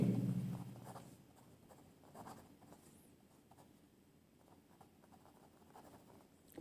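Pen writing out a maths solution for a slope formula problem, a soft scratchy scribble that is loudest in the first second and then fades to faint, intermittent strokes.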